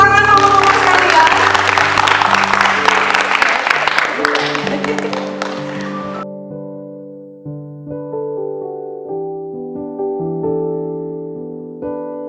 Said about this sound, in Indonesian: boleh beri tepuk tangan mama-mama sekalian.